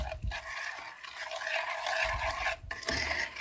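Pineapple being mixed into cake batter in a bowl, a continuous close scraping and stirring with rhythmic strokes and no talking.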